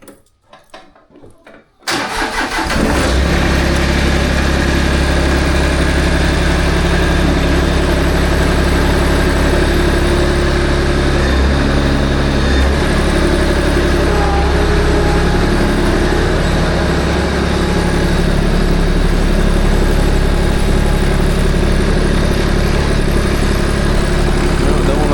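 After a short quiet start, a tractor engine catches and then idles loudly and steadily with a deep, continuous rumble that lasts to the end.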